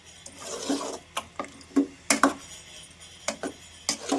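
Lentils being stirred into sambar in a cooking pot, a ladle scraping and knocking against the pot in irregular clinks and taps, close and fairly quiet.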